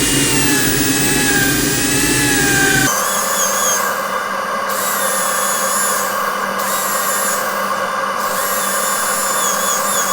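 A wood lathe spins a Tasmanian sassafras rectangular bowl while an abrasive's edge is taken off. A loud, steady motor whine with a high tonal ring shifts character about three seconds in, then keeps running.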